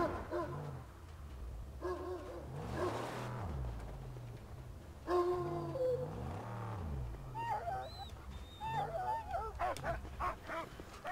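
A dog in the Mad Max video game barks, whimpers and yips repeatedly amid game sounds and music, close and fairly loud, with someone talking briefly over it.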